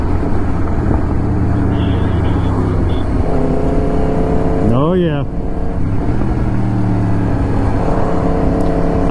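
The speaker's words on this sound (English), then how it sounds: "I can shift all the way into fourth on the back wheel." A motorcycle with a quick shifter accelerates hard on its back wheel, shifting rapidly up through the gears into fourth. The engine is loud and close, its pitch climbing and dropping in steps, with steady wind rush underneath.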